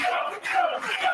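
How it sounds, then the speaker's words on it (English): A crowd cheering and shouting together in a loud, continuous roar with slight surges, sounding fairly close. "The crowd."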